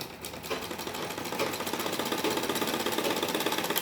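A sewing machine stitches fabric for a salwar in a quiet, steady mechanical whir with a rapid rhythmic needle patter, fairly close and continuous without talk.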